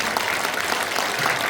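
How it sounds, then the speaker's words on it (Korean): Dense, loud audience applause in a civic hall at a book concert, continuous clapping from a large crowd filling the whole moment. "다시 한번 큰 박수 부탁드립니다"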